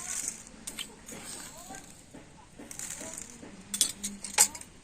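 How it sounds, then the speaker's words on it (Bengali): A spoon adds sugar to a warm cooking mixture, with faint scattered clinks and taps of metal against a bowl under quiet talk, and a few sharper clinks near the end. "তো এই চামচে 2 চামচ চিনি দিয়ে দিচ্ছি।"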